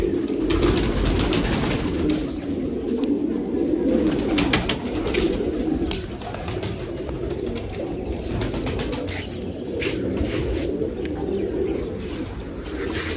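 Pigeons being fed grain coo in low, continuous murmurs, several birds overlapping close by with occasional soft chirps, no voices.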